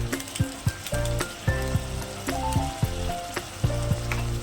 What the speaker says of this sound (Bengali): এবার অ্যাড করব এভারেস্টের বিরিয়ানি মশলা।